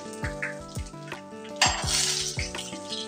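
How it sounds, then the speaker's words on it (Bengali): Cumin, mustard seeds and dry chilli are tempered in hot oil in a home kitchen. Sharp metal clinks of pot and utensil repeat, and a brief sizzling hiss follows them. "জিরে, সর্ষে আর শুকনো লঙ্কা ফোড়ন দিয়ে দিলাম তেলের উপর"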